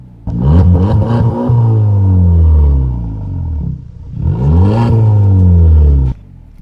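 A Skoda Kodiaq with an electronically controlled exhaust flap revs hard twice up close, each blip climbing sharply and falling back to a deep rumble, with a short pause between.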